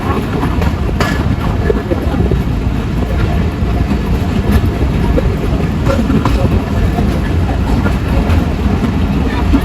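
Bhatiapara Express passenger train running along the line after leaving, heading toward Madhukhali railway station, a steady loud rumble of wheels and carriages with faint clatter throughout.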